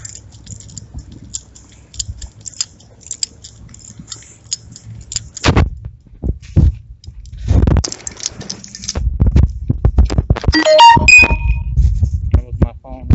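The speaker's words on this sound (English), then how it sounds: "That was my phone going off." A mobile phone goes off with a short burst of bright electronic chime tones, brief and fairly close, amid handling clatter, knocks and rustling during a paranormal investigation.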